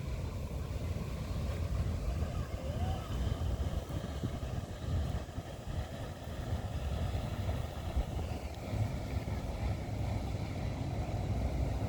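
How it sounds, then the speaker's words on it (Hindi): A boat speeds toward the seaside shore in Lara, Antalya, its engine a steady low rumble with outdoor wind noise, moderately close and continuous, no voices. "ये बोट सामने आ रही है, आप देख रहे हैं काफ़ी स्पीड से आ रही है"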